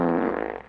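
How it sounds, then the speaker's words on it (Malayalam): A short, low, rumbling fart sounds once up close, fading out within a second. "സ്ഥിരമായിട്ട് ഇങ്ങനെ വളിയിടും."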